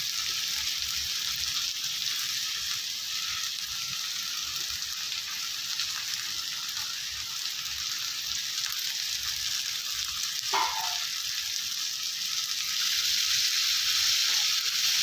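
Grated bottle gourd and tomatoes sauté in a pan with a constant bright hissing sizzle, close and even, marked by a single brief clink partway through.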